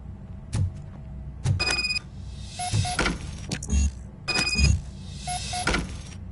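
A locked door is tried in the video game RoboCop: Rogue City, with repeated clunks and rattles in short bursts, mixed with brief high electronic beeps, close and fairly loud.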